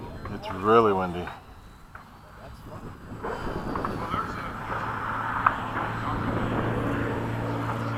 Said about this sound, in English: I got this pattern plane from Airborne Hobbies